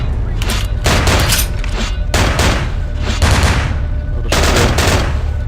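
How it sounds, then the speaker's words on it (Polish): Dense, continuous bursts of rapid gunfire with booming impacts in Vampire: The Masquerade – Bloodlines, coming from a nearby room, loud and close, overlapping volleys with no pauses throughout. "te strzały dobywają się z tego pomieszczenia"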